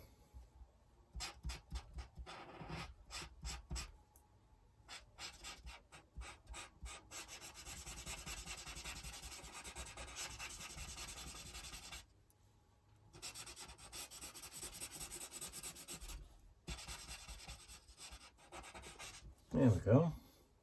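A chisel-tip marker rubs and rasps across an art journal page as a blue block is coloured in, steady scratchy strokes in bursts with short pauses, close and fairly quiet with no talk.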